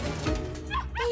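Cartoon puppies give a few quick high-pitched yips and barks in rapid succession, close and clear over a faint background.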